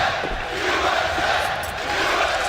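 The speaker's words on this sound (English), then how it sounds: "The crowd's back as well." A large arena crowd at a Counter-Strike esports major match roars in a steady, loud wash of cheering and shouting, with a caster's voice faintly mixed in.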